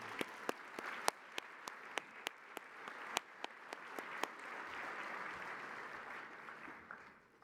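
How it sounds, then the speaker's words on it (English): Audience applause at a formal evening dinner event, a broad steady wash of many hands clapping with a few sharp, loud individual claps standing out near the front, continuing evenly for several seconds before gradually thinning. "Clap it up again one more time for that powerful video."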